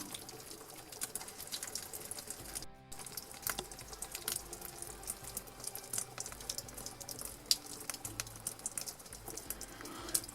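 Water splashes and trickles steadily as garden pots are watered heavily in a garden at Monfestino, with faint irregular drips and patters throughout.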